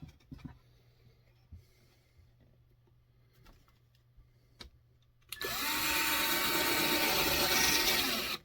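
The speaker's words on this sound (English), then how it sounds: "pre-drill and screw them together." A power drill pre-drilling into wooden boards for a window box, with a few light clicks and handling knocks before the drill starts loud and close, whirring steadily for about three seconds.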